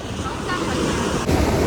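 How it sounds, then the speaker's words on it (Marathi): Fast-moving ocean waves rolling onto a beach make a steady loud roar of surf with wind buffeting the microphone, swelling at the end, with faint voices mixed in. "लाटा किती स्पीडने"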